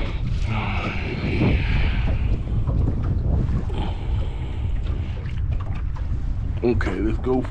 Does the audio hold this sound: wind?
yes